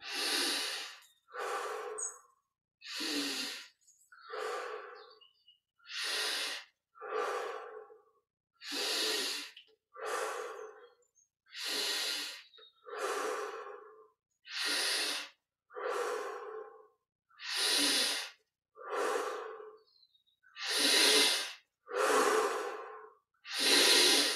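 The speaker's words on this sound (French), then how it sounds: "On inspire par le nez, on expire par la bouche." Slow, deep breathing during guided Kriya Yoga meditation, each inhalation through the nose and exhalation through the mouth heard close up as a long run of steady, evenly spaced airy breaths growing fuller over time.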